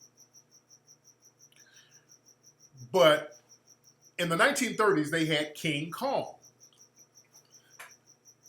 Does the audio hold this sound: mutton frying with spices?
no